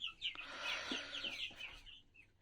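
Small chicks cheep in high, rapid peeps inside a box, a faint, close chorus of short chirps.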